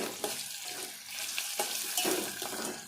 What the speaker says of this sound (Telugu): మసాలాలన్నీ ఇట్లా వేగాలి.